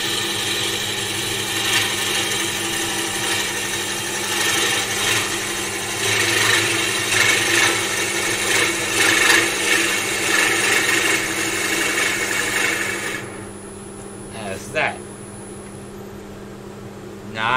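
A wood lathe turns an African blackwood lid, a steady motor hum with a gritty scraping texture of a tool cutting the spinning wood, loud and close, before the cutting stops and only the motor whine remains with a couple of light knocks.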